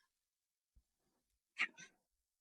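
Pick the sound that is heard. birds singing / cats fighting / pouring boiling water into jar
cats fighting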